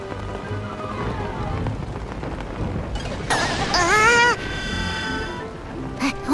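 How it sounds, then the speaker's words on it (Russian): Steady rain hisses through a cartoon scene set in a forest on a rainy day, with a continuous broadband patter and a brief squealing character sound partway through; no distinct thunder crack stands out. "От дождя нужно прятаться,"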